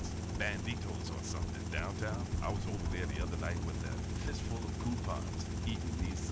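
The Sparrow helicopter in GTA Vice City keeps up a steady, droning rotor and engine hum throughout, with someone talking over it the whole time.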